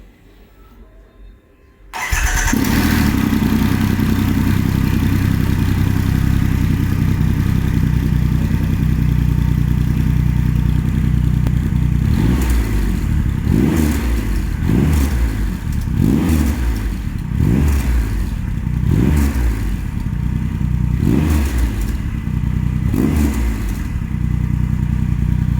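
Triumph Rocket 3 motorcycle fitted with a Zard exhaust cranks and fires up, settling into a loud deep idle, then is revved in a series of repeated throttle blips close by.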